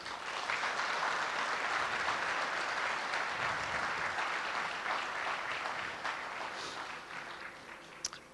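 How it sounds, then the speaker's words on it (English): Sustained audience applause filling a large hall at an investment summit in Bangladesh, dense and steady, tapering slightly toward the end. "Let's give another big applause for them."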